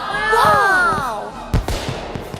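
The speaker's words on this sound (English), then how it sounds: "Those are some interesting fireworks." Cartoon fireworks burst over a parade, with a couple of sharp pops and crackles arriving after an animated voice calls out.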